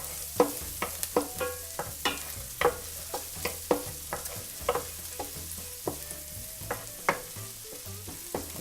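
Shallots cooking in melted butter in a pan, with a steady soft sizzle broken by regular sharp clacks of a utensil stirring and scraping, close up, no voices.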